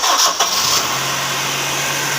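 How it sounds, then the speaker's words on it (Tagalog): A 2003 Honda CR-V engine with a newly replaced engine support starts, a brief cranking burst followed by a steady, smooth idle, close and alone without talk. "Start natin kung okay na ba yung start niya"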